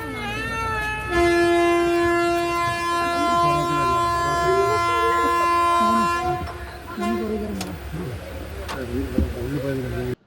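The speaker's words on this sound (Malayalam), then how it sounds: "ഈ കാണുന്നത് മലബാർ മേഖലയിലെ ട്രെയിൻ യാത്രയാണ്." A crowded passenger train in the Malabar region carries a busy mix of many voices talking and calling out over the rumble of the carriage, with a long sustained horn-like tone in the first half.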